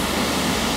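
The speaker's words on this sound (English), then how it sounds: "That's National Creek Falls" National Creek Falls waterfall roars as a steady, dense broadband wash of falling water, close and loud without a break, with no voices over it.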